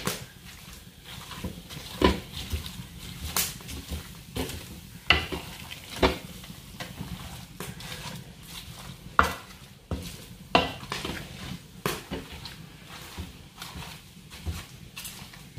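A spoon scrapes and knocks against a pan as thick, buttery homemade requeijão cheese mass is stirred, with regular sticky squelches and clacks and a faint sizzle beneath, no voices.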